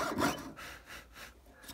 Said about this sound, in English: now I'm going to slowly start sawing out the leaf.